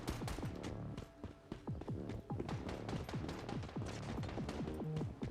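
Rapid bursts of gunfire in a video game, a dense run of sharp repeated shots with echoing tails, fairly loud and continuous across the stretch with no talking.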